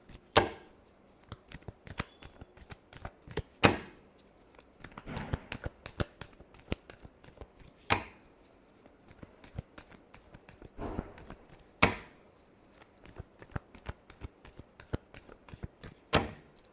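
A deck of tarot cards is shuffled by hand in repeated bursts of riffling and soft slapping, with short pauses between rounds, close and fairly quiet.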